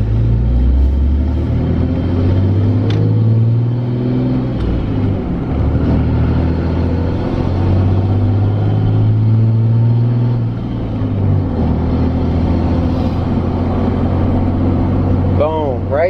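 A 2017 Cummins diesel pickup truck with a dual disk clutch rumbles loudly, accelerating and shifting gears with a deep engine drone, while someone talks over it.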